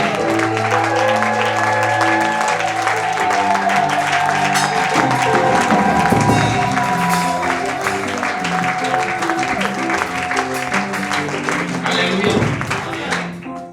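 A church congregation claps and cheers for Jesus during a Sunday service, dense sustained applause filling the room over loud music with sung tones, holding steady before fading at the end.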